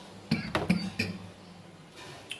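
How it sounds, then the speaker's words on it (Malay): A short run of three or four dry coughs close to the mic, followed by quiet room sound and a faint rustle. "batuk lah pulak"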